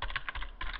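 Rapid typing on a computer keyboard, a close, steady run of quick key clicks with a brief pause midway, alone with no talking.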